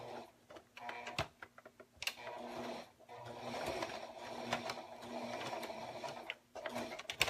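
A sewing machine stitches a paper-pieced snowman quilt block, running in close, steady bursts of rapid needle clatter broken by brief pauses and restarts.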